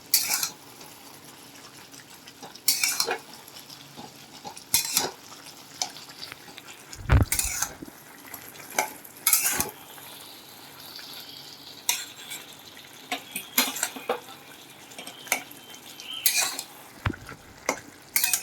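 A spoon stirs potato and eggplant curry in a cooking pot with the lid lifted, sharp intermittent scrapes and clinks against the metal over a soft steady simmer, close and with no voices.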